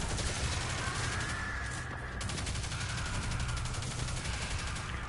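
Rapid bursts of automatic gunfire from the Risk Runner weapon in the shooter game Destiny 2 crackle loudly and continuously, with sharp repeated shots filling the whole stretch.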